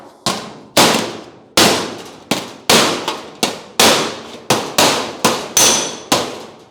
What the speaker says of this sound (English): You hear that noise when I hit the dolly from behind?